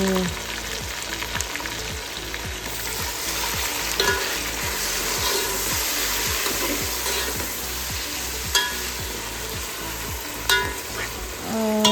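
Chicken pieces sizzle with onions in a hot pan while a spoon stirs them in a quick, steady rhythm of scrapes over the constant frying hiss.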